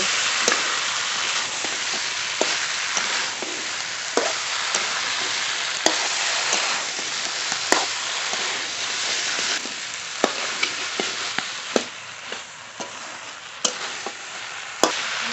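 Boiled peas being stirred with spices in a pan for a vegetarian ghugni, a steady loud sizzle of frying with scattered sharp scrapes and taps of the spoon against the pan throughout.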